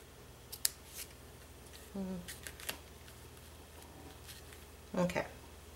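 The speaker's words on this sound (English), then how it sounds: "Go ahead and cut this tail off." Scissors snip through paper while a handmade birthday collage card is being made, giving a few quiet, brief cuts near the mic under light talk in an otherwise hushed room.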